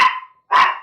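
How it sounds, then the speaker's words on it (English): A pet dog gives two loud, sharp barks indoors, close by, with a short pause between them. "my dog's barking"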